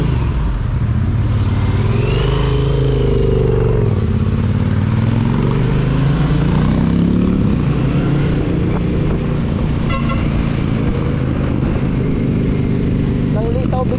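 A motorcycle engine runs at a motorcycle market, a continuous rumble with shifting pitch as it revs, while people talk over it throughout.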